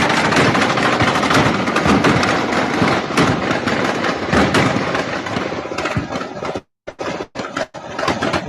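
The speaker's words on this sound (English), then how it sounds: "that's full auto fire that you're hearing" Bursts of fully automatic gunfire crackle in Mexico amid cartel violence, loud rapid rattling strings running nearly continuously before breaking into a few shorter, separated volleys at the end.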